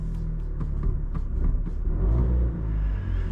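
A 2017 Fiat 500 with the two-cylinder turbocharged 0.9 TwinAir engine hums as a steady, buzzy drone heard from inside the car, holding an even level with a slight swell partway through.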